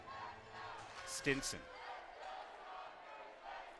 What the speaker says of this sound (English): the crowd that came up from San Diego to support the Sockers is being heard for the first time since the first quarter